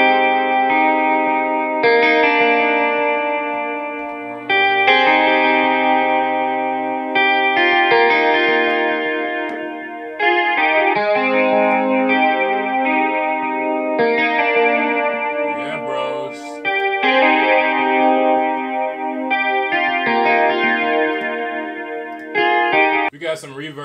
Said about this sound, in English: I like flangers. They sound cool.